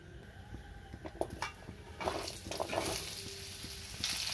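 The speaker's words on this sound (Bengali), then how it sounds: "এবার ওই কড়াইয়ের মধ্যে আবারও কিছুটা তেল দিয়ে আলুগুলোকেও ভেজে নেব" Potatoes frying in oil in a pan, a steady hiss broken by scraping and stirring clatter, close by.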